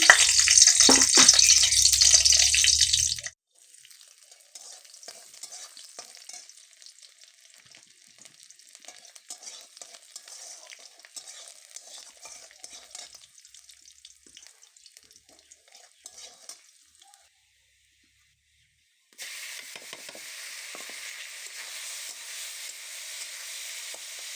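Dried red chili and chopped garlic fry in a pan with a loud, crackling sizzle for a few seconds, then the sound drops to a faint hiss and brief near-silence before a steady hiss returns.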